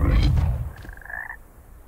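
A frog croaks in the video game Hogwarts Legacy, one loud close croak sliding upward over a rumbling game background, with no talking.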